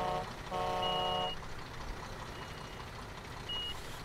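Reversing beeps from a truck in the Bau Simulator 2015 construction game, a short burst of steady electronic beeps near the start with engine hum beneath, fading into low rumble.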